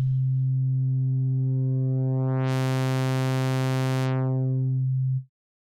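A Bitwig Phase-4 synthesizer tone morphs from a pure sine into a bright sawtooth wave, sustaining one low pitch as harmonics build up and then fade back before the note cuts off, alone with no voice.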